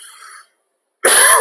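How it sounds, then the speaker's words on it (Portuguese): A single sharp, loud cough bursts out after a brief silence, preceded by a faint high tone. "Tô com uma tosse chatinha."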